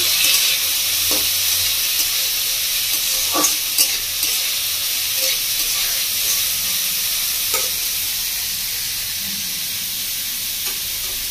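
Chopped beans and mixed vegetables sizzle and hiss in a pan for Indian-style tomato soup, with scattered clinks and scrapes from stirring over a constant steamy frying noise.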